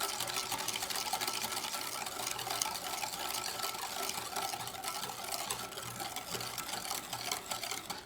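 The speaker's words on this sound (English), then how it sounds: "I'm just whisking until everything is mixed together really well." Whisk beating crème brûlée custard mixture in a bowl, a continuous fast scraping and sloshing, moderately quiet and steady with no talk.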